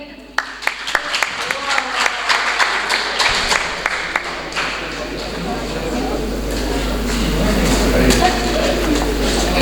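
Audience applause at a literary and music gathering as a singer is welcomed to the stage, starting with scattered sharp claps that swell into dense, sustained clapping with crowd noise and some voices.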